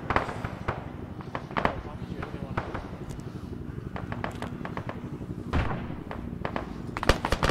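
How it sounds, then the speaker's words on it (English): Frag grenades and small arms going off in an Arma 3 military operation, a run of sharp cracks and thuds scattered through the stretch, some close and some distant, with people talking over the action. "They're just tossing frags at these guys."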